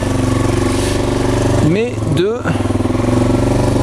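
A motorcycle ridden on the road, its engine a loud, steady pulsing drone close by, with a voice speaking briefly over it partway through.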